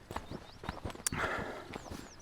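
A horse walks along a path at a North Wales lakeside camp, its hooves clopping in an uneven rhythm at close range, with birds chirping faintly in the background.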